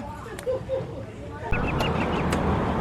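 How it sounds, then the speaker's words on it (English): Short bird calls chirp and quack outdoors in several brief bursts, moderately near, over a steady background hiss with faint rustling. "Hear the birds?"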